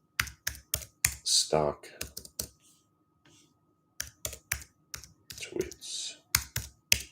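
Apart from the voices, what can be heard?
typing on a computer keyboard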